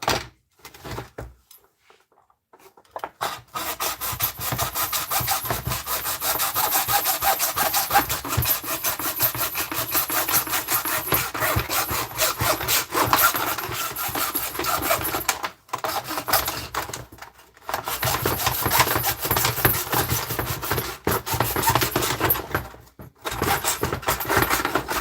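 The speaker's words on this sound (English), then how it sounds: "hacksaws get me straighter cuts" A hacksaw cuts with steady, close, rasping back-and-forth strokes that run almost continuously. The sawing stops briefly about three times before carrying on.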